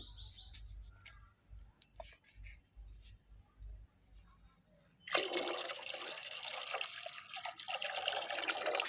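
Water pours steadily and fairly loudly into a container for a plant nutrient mix, starting about halfway through after a quieter stretch of faint birdsong.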